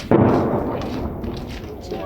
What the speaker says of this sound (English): On the other side of the city, an explosion makes Nikolaevna jumpy